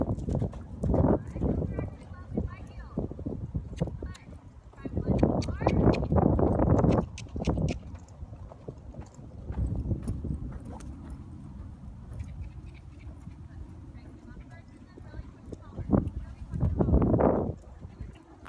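A horse moves around an arena during lunging and liberty work, its hooves thudding in uneven clusters that come and go, near then farther, while a person talks over much of it.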